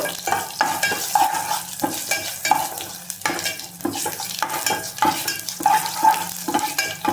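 Tempering seeds and dry red chillies fry in hot oil, with steady sizzling and rhythmic scraping of a spatula against the pan, repeated stirring strokes close and clear.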